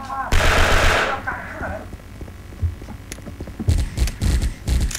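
Automatic gunfire in the online shooter Special Force: one long, loud burst of rapid shots, then a quieter stretch, then several short bursts close together near the end.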